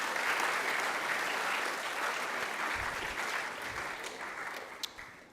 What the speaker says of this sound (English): Please give him an extra round of applause for that beautiful speech.